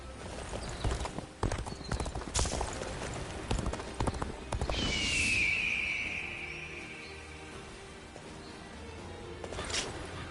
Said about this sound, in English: I got a horse.